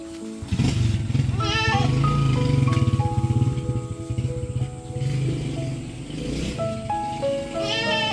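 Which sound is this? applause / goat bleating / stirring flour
goat bleating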